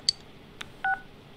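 Telephone dialing in the video game Persona 4 Golden: a few short beeps spaced unevenly, ending with a slightly longer dual-tone, clean and quiet with no voices.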